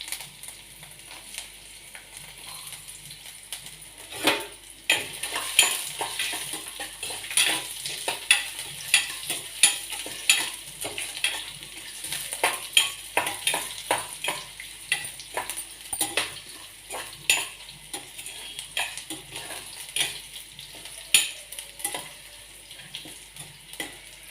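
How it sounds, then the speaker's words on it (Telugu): Thin ginger slices fry in oil for chutney while a spatula stirs them. Repeated scraping and tapping strokes sound over a continuous light sizzle, close up. "అల్లం ముక్కలు పలుచగా తరుక్కున్నాం కాబట్టి ఇవి వేగాలన్నమాట"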